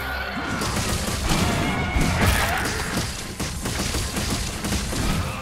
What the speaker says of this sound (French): avec les explosions, on arrive à facilement à détruire beaucoup d'éléments du Kuluyaku